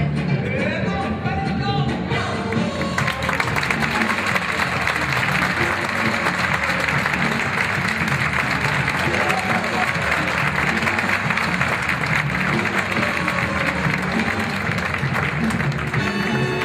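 An audience at the fifth International Circus Festival of Albacete claps in a sustained, dense wash of applause that swells after a brief opening and carries on loudly to the end, with voices mixed in.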